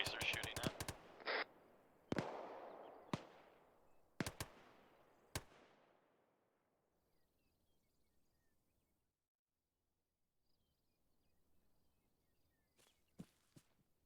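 Tracer gunfire in Arma 3 goes off as a handful of sharp, separate cracks with long echoing tails over the first seconds, fades into near silence, then returns as a couple of fainter distant shots.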